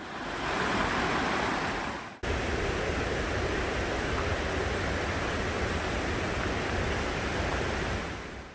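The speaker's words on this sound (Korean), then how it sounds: "비가 자주 오는 여름에는 길 중간에 이렇게 낮은 개울이 생기기도 합니다." A shallow summer stream runs across a forest trail in the Odaesan fir forest valley, giving a steady close hiss of flowing water that continues unbroken apart from a brief dip early on.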